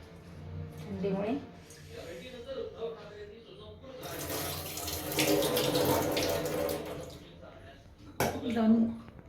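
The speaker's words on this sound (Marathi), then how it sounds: "ते बघा तांदूळ मी धुवून घेते" Rice being washed in a pot under running water: tap water pours and splashes in bursts, rising to a fuller gush midway, with someone talking over it.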